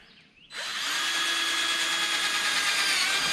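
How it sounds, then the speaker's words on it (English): A power drill whirs up suddenly and runs steadily at high speed, loud and close, drilling a hole to mount fender flares, after a brief quiet start. "So I'm going to go ahead, drill a hole right here."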